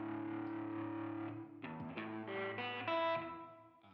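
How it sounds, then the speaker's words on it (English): An electric guitar played through a big fuzz distortion pedal, with a sustained thick buzzing chord followed by a few short, gritty melodic notes. "distortion or big fuzz off sounds like this."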